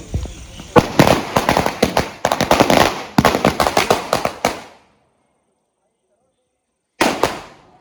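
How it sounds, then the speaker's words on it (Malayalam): Firecrackers set off by Brazil football fans in Mayiladipara crackle in a rapid, loud string of close bursts for several seconds, stop into silence, then a shorter burst erupts again. "പടക്കം പൊട്ടി."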